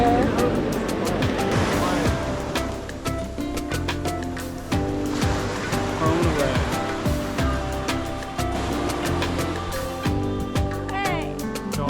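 Sea waves wash onto the beach at Nerja, Spain, a steady rolling surf that runs continuously through the whole stretch, mixed with other background sounds.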